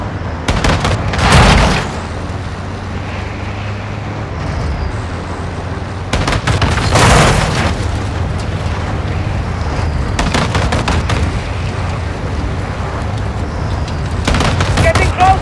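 Call of Duty Modern Warfare II gunfire rings out in bursts, loud volleys near the start, around seven seconds and again near the end, over a steady low rumble of a vehicle engine and battle noise.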